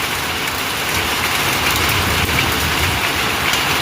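Steady rain falls in Sylhet, a dense continuous hiss of drops on surfaces that stays loud and even throughout with no voices.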